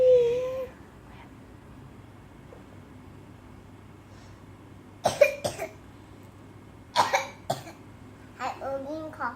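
A three-year-old girl fakes a cough, with several short, sharp coughing bursts in a quiet room, then a few soft voiced sounds near the end.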